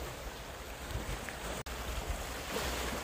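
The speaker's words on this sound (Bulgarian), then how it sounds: "Ето го и морето." Sea waves and wind on the Greek White Sea coast where a canal flows into the sea, a steady soft wash of surf and breezy rumble with no voices, interrupted by one instant dropout.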